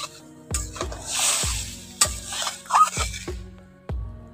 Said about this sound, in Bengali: জলটা দিয়ে ভালো করে একটু নাড়াচাড়া করে নিচ্ছি।